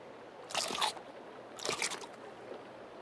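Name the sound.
character chewing food in video game Sons of the Forest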